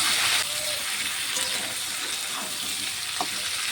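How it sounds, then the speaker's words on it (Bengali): Raw banana pieces frying in a pan, giving a steady close hiss of sizzling oil with faint scraping from stirring and no talk. "কলাটিকে একটু নেড়ে চেড়ে নিয়েছি।"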